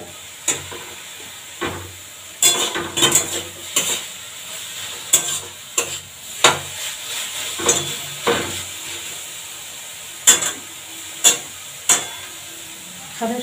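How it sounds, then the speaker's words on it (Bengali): Leafy saag greens fry in a pan, with a spatula clattering and scraping in irregular strokes over a constant sizzling hiss. The sound is close and fairly loud, and no one speaks. "সাদের শাক ভাজা হচ্ছে।"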